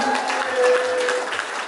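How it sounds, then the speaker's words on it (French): Brief burst of clapping from wedding guests during a reception game, moderately loud and steady for under two seconds, with a faint tone running through it. "Alors, on peut applaudir."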